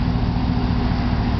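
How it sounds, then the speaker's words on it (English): 2019 Z71 LD pickup truck engine rumbling steadily, a low, fairly quiet and even drone close by with no talk. "Start up. Nice little rumble. It's not too loud."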